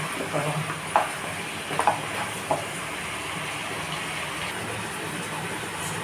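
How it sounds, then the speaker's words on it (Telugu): Drumstick pieces clack and scrape against a pan as they are stirred into a frying curry, a few sharp knocks over a soft steady sizzle. "మునకాయలు వేసేసుకొని మిక్స్ చేసేసుకున్నాము"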